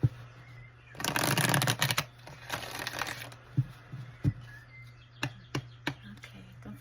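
Rider-Waite tarot cards being shuffled by hand: a dense riffling burst for about a second, more lighter shuffling, then scattered soft taps and card snaps in a quiet room.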